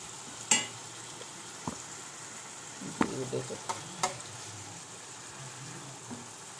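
Fish frying in a pan with some water in the oil, giving a faint, steady sizzle broken by a few sharp clicks and taps of a utensil.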